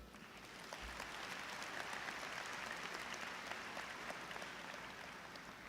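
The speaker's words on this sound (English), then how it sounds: "give yourselves a round of applause for being here today" Graduates and families at a high school graduation ceremony applaud, a broad, distant-sounding wash of many hands that swells within the first second and holds steady, fading slightly near the close.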